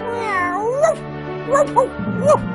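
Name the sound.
kittens meowing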